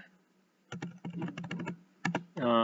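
Typing on a computer keyboard in an office e-filing program, with two bursts of clustered key clicks, a brief pause between them, and a harmonic tone rising at the end.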